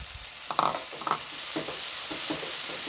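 Pieces of coconut drop into tomatoes frying in a pan, with a steady sizzle, a few soft clattering stirs and spatters at close range.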